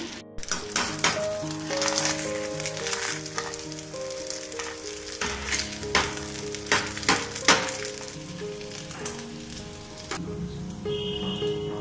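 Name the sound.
bread rolls deep-frying in oil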